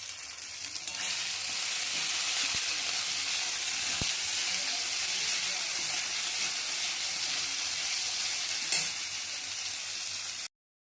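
Ginger and green chili paste with salt fries in a pan with a loud, unbroken sizzle lasting about ten seconds. A few faint stirring taps sound before the noise cuts off abruptly.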